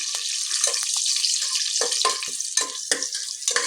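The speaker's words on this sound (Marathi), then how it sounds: "कढीपत्ता, हिरवी मिरची, तेजपत्ता आणि ही तडकेवाली मिरची। याला आपण थोडंसं टॉस करून घेऊया।" Curry leaves, green chillies, bay leaf and dried tempering chillies tossed in hot oil with cumin for a vegetable pulao give a close, steady crackling sizzle, punctuated by repeated spoon scrapes and light clinks against the pot.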